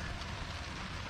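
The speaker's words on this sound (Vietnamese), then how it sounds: "Trời mưa rất nhiều." Steady rain pouring down in the evening at a fishing spot in Da Nang, a dense, even hiss that fills the short stretch with no pauses and no voices.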